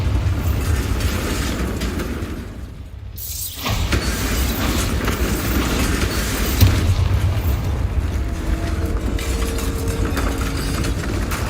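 A Bombarda spell in Hogwarts Legacy detonates with a loud, sustained blast that swells into a long rumbling roar of debris and crumbling stone under a dense game soundscape.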